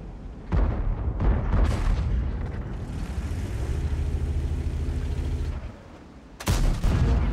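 A T32 tank cannon fires in World of Tanks, booming heavy blasts with rumbling tails against a low, steady engine drone, followed by another sharp shot near the end.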